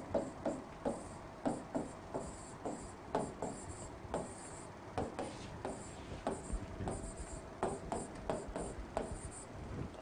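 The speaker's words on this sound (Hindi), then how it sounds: "सारे के सारे पहले सारे लेटर्स लिख लेंगे एक साइड" Pen writing letters by hand on paper, a steady run of short scratchy strokes and taps at close range, quiet and uninterrupted by speech.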